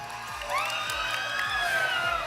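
A crowd of children cheering and whooping together, sustained high excited voices over a steady noisy background.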